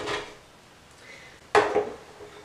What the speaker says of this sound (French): je commence toujours par râper mon savon de Marseille